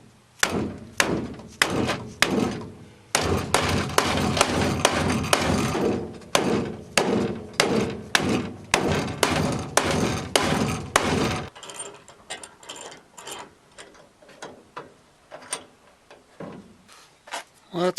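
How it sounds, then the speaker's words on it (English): A metal strip clamped to an aluminum boat hull is hammered to fit its bends, giving a rapid run of loud, close metallic blows. Sparser, softer knocks follow. "I clamped it in place, and I'm just beginning to beat it into submission so it'll fit these bends"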